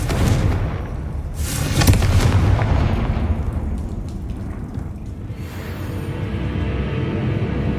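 Booming fire-spell blast from the Confringo charm in Hogwarts Legacy, cast against a giant spider; a loud explosive burst rings out near the start and rumbles on with sustained crackling combat noise.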